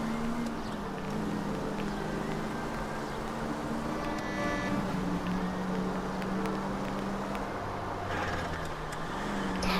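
Car driving in the video game L.A. Noire, a steady low engine hum with slight pitch shifts and some faint clicks and rushing noise, quiet and continuous, no talking.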